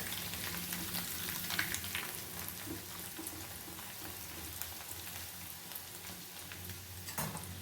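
Flattened rice (avalakki) deep-frying in hot oil inside a mesh strainer gives a steady, dense crackling sizzle that holds throughout, with a few brief louder pops near the end and no talking.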